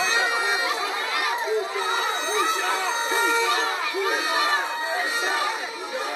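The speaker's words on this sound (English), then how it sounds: "They shout at the police, shame on you." A crowd of protesters in Tel Aviv shouts at police during a street clash with mounted officers, a steady dense roar of many overlapping voices and cries throughout.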